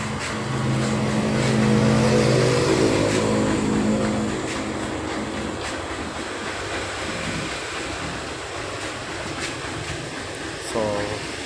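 A Yamaha YTX 125 motorcycle engine runs steadily at idle while still cold, a continuous close mechanical drone with a slight swell early on; a voice talks briefly over it.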